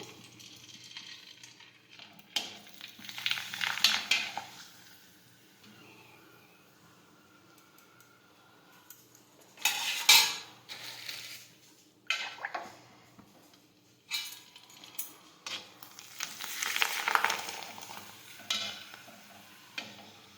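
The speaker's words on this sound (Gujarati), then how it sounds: "હવે આપણે તેમાં ભૂંગળા તળી લઈશું" Bhungla frying in hot oil for batata bhungla, heard as intermittent bursts of bubbling sizzle and occasional utensil clatter, close and moderately loud between quieter gaps, with no voices.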